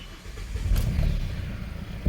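A 2015 Hyundai i30 diesel engine, which has a problem with cutting off, cranks and starts close by, then settles into a low, loud rumbling idle for the rest of the moment.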